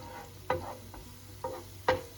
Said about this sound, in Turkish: sarımsakların biraz kavrulmasını bekliyorum